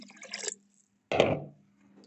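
Potatoes drop into water in a pot with a single short splash and plop, close by and fairly loud, after a brief stretch of wet handling noise, with no voices.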